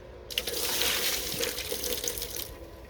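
A bucket of well water poured over the surface of a running welding inverter, giving a steady rushing splash of water for about three seconds, loud and close, with no voices.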